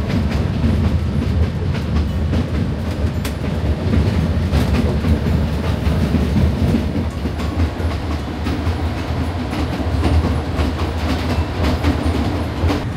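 Steady loud rumble of a train riding on rails through a valley in Peru, heard from inside a strongly swaying carriage, with rhythmic clacking and rattling throughout.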